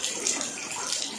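Steady rain pouring down during a work shift, a dense, continuous wash of falling water close by with no voices.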